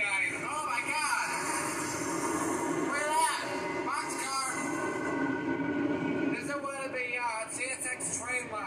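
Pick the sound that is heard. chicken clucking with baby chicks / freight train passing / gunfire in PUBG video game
freight train passing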